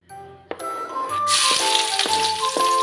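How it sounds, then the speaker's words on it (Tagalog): Oil sizzling in a pan at the start of cooking spaghetti sauce, a sharp hiss bursting in after a few clinks and carrying on loud and steady, with light utensil taps through it. "umpisahan na natin ang aking pagluluto ng spaghetti sauce"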